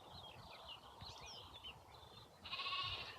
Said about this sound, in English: I think there's a sheep right around the corner from you.